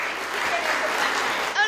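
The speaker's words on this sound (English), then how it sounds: "if we can give them a round of applause" Audience at a peace poetry contest applauding a performing group, a dense steady clapping that fills the space and ends abruptly, with a voice briefly cutting in at the end.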